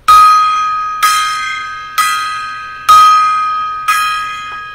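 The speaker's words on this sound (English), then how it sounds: "I'm going to give like a five gong salute" Five ringing metallic strikes of a gong given as a salute, each about a second apart, with a loud bright attack and a sustained shimmering ring that decays between hits, with no talking.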